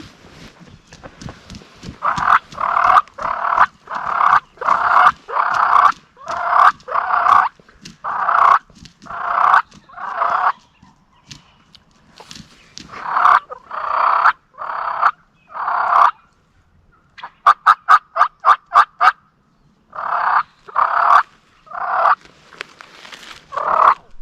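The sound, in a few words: wild turkey gobbling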